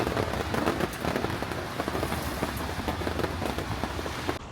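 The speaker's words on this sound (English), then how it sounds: "stand under a canopy to get a bit of shelter from this heavy downpour" Heavy rain pours down in a dense, constant hiss with sharp spattering drops hitting a nearby canopy overhead, in the old town of Paisley, Scotland.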